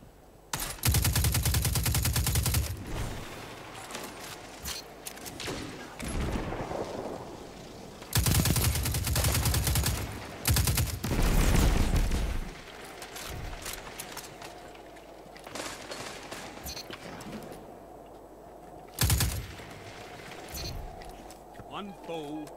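Gunfire in Destiny 2 competitive PvP play, with loud bursts of rapid automatic fire broken by quieter stretches and scattered single shots over game ambience, with a voice talking across much of it.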